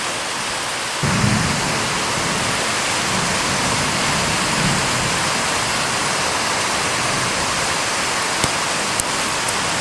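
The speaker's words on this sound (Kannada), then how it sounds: "ಹಾಗೆ ಮಳೆ ಬರ್ತುಂಟು" Heavy rain pours steadily as a storm approaches, a dense continuous hiss with low rumbling swells early on, like distant thunder, and a few sharp ticks near the end; no voices.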